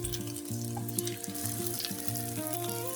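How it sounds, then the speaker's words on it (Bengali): Egg frying in a pan for a quick flour-and-egg snack, producing a steady close sizzle with fine crackling and bubbling that holds evenly throughout. "আমি ডিমটা ভেজে নিব।"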